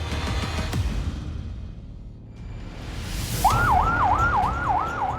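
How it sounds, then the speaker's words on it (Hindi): An emergency siren wails in a fast rising-and-falling cycle, coming in over rumbling background noise after a whooshing sweep. "चीखते सायरन"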